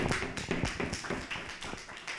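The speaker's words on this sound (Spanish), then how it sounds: "otro aplauso para Pearson" A small group claps in a university statistics lecture, a quick, fairly even patter of handclaps lasting a couple of seconds, soft and without talk over it.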